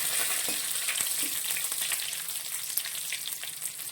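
Raw banana and other ingredients for banana flower thoran fry in a pan with a continuous, bright hiss of hot oil, close and fairly even, with a few soft stirring clicks.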